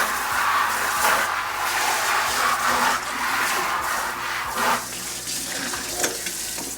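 Tap water runs steadily into a beer brewing vessel as it is rinsed out, a loud continuous splashing rush that surges and shifts in tone as the vessel moves under the stream.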